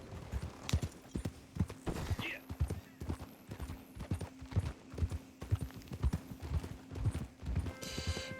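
Horse hooves clip-clop steadily in Red Dead Redemption 2, a continuous close rhythmic trot with a brief whinny, under game dialogue and ambient sound.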